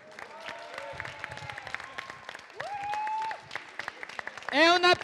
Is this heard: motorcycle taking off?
no